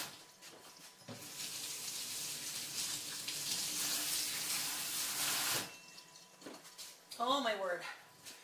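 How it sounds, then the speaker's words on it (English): A kitchen tap runs steadily for several seconds while hands are washed, a loud close rush of water that starts and stops abruptly, followed by brief clattering and a person speaking. "All right, hold on, wash my hands."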